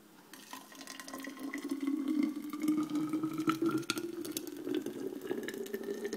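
Green smoothie poured into a stainless steel container, a steady liquid stream whose pitch slowly rises as the vessel fills, continuous and close for several seconds.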